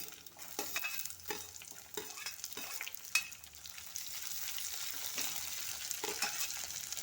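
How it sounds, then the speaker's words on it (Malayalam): Shallots and curry leaves sauté in a pan for an ivy gourd and soya curry, a faint, soft sizzle broken by intermittent spatula scrapes and taps, quiet and close with no talk. "ഇനി ഉള്ളി ഇട്ട് കൊടുക്കാം കറിവേപ്പില ഇട്ട് കൊടുക്കാം"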